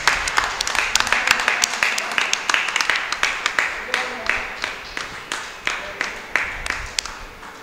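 A concert audience applauds a violinist at a Carnatic music event, with dense hand clapping that settles into a steady rhythmic beat and slowly fades.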